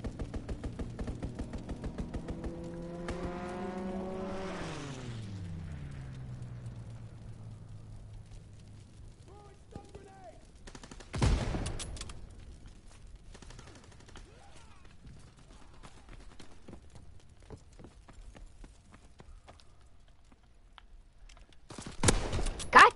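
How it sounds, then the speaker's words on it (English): Gunfire from an aircraft strafing run in the Call of Duty video game: a rumbling, descending engine-like roar gives way to sharp bursts of rapid fire, with a loud volley near the middle and another at the end. "Strafing run inbound."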